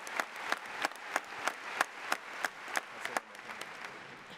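Applause from an audience at an NEA event, a broad crackling wash of clapping with sharp rhythmic peaks roughly every third of a second, steady and fairly near, fading slightly toward the end.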